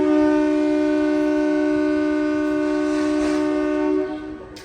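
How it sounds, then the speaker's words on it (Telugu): A Secunderabad–Siddipet DEMU train at cruising speed sounds a long, loud, steady horn blast that cuts off near the end, leaving the running train behind it. "మన ట్రైన్ క్రూజింగ్ స్పీడ్ మెల్లమెల్లగా పెరుగుతుంది"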